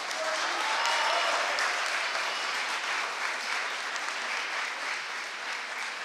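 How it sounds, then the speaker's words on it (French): An audience at a competition final applauds, a sustained, even, mid-distance wash of many hands clapping with no talk over it. "Et on peut de nouveau l'applaudir."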